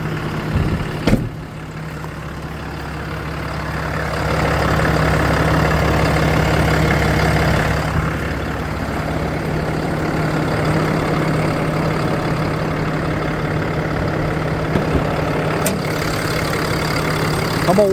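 A 2017 Dodge 5500 mechanics service truck with a 5000 lb crane idles steadily while warming up, a continuous low diesel rumble that holds from start to finish with a couple of faint clicks along the way.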